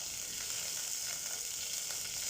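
Mustard seeds, curry leaves, dried red chillies and green chillies sizzle and crackle steadily in hot oil for South Indian rasam, a close, even frying hiss with no talking.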